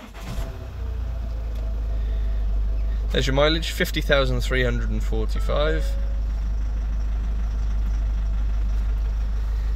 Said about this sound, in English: And we'll just start the car up.